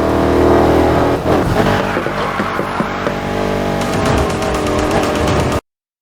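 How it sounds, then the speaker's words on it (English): Cars in the racing game Need For Speed Heat, with a loud engine roaring and revving through gear changes and a brief tire squeal before cutting off abruptly. "The engines rumble and brakes scream believably"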